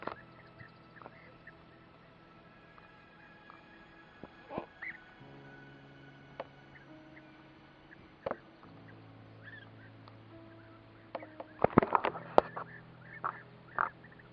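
Scattered calls of European bee-eaters ring out over a steady low hum, mostly faint and distant, with a brief cluster of sharper chirps near the end, in Sagres, Portugal.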